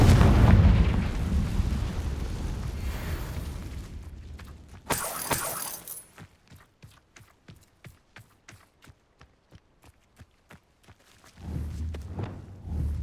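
Confringo fire spell explosions burst in the Hogwarts Legacy video game, a loud rumbling blast with a sharp crackling flash, then a run of quick, faint ticks before another low rumble builds at the end.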